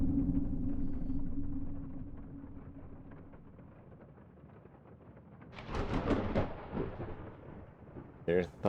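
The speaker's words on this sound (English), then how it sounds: "There's thunder." Low thunder rumbles steadily through the first seconds and fades, followed by a louder, rougher burst of rumbling and crackle, with a brief sharp sound at the end; no talking.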